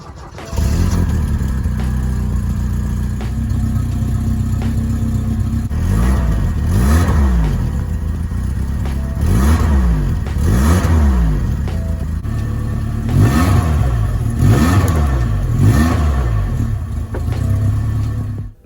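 An Alfa Romeo engine with a new exhaust revs repeatedly with a deep, throaty exhaust rumble, several sharp rising-and-falling bursts over a steady idle, loud and close.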